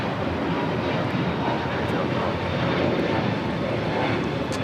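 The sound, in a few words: Delta Airlines A321neo taking off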